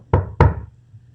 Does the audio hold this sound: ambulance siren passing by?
no